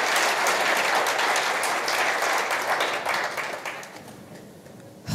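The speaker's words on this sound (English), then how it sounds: "please give my panelists a round of applause" An audience at an economic forecast forum applauds panelists, a full, steady round of many hands clapping that gradually thins toward the end.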